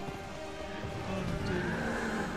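A horse neighs amid the Executioner's Chariot boss fight in Dark Souls 2, a whinny over a dense, continuous game soundscape of rumbling and clatter.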